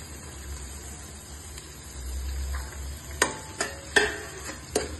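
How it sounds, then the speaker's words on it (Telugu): Onions frying in a pan for Hyderabadi dum khichdi, a soft steady sizzle with a few sharp clicks of stirring toward the end, close and moderately quiet. "ఆనియన్స్ కొంచెం మంచిగా ఫ్రై అయ్యేదాకా, కొంచెం గోల్డెన్ బ్రౌన్ వచ్చేదాకా వేయించుకోవాలండి"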